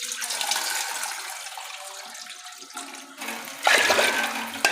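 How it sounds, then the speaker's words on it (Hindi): A glass of water pours into a pressure cooker holding soaked chana dal for a pumpkin and lentil dish. A close, continuous splashing gush gives way to a brief lull, then a second strong rush of water. "तो इसमें जाएगा 1 गिलास और पानी का"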